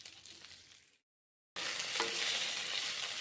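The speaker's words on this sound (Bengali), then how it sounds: "ব্রোকলি ভেজে নিলাম, মুগের ডালগুলোও ভেজে নিচ্ছি।" Broccoli and moong dal fry in a pan with a steady, loud sizzle and crackle. The sizzle fades, cuts to a brief silence, then comes back stronger and brighter.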